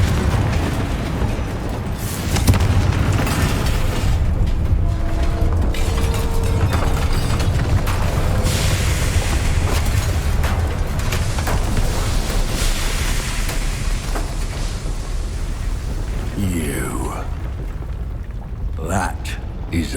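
A Confringo blasting spell explodes in the Hogwarts Legacy video game, a loud booming burst amid dense, continuous game sound with spell effects and rumbling, and a voice speaks over it.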